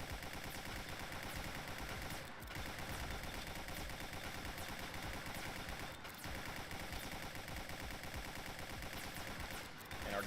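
Constant rapid gunfire in Guncraft Survivor, a dense, unbroken barrage of shots with brief dips, over busy game noise and occasional talk.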